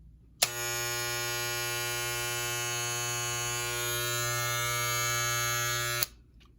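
Wahl electric hair clippers from a 17-piece haircutting kit, switched on and running with a loud, steady buzzing whine that starts abruptly, holds for about five and a half seconds, then cuts off.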